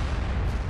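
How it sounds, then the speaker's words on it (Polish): A tank cannon fires a blind shot in World of Tanks, one short, deep, muffled boom. "Tutaj strzał na ślepo w WZ"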